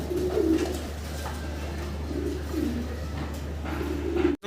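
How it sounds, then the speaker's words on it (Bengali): Blue barless pigeons coo in soft, repeated low rolling calls over a constant electrical hum, with a sharp knock right at the end. "আর এটা হচ্ছে ব্লু বার্লেস স্টেসার কবুতর"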